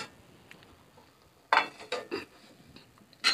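A cooking pot (handi) set on a stove gives a few sharp metallic clanks and scrapes, close and fairly loud, separated by quiet pauses.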